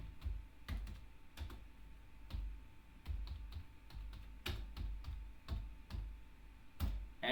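Keys clatter on a computer keyboard as an address is typed, in irregular bursts of sharp, close clicks separated by short pauses, with no one speaking.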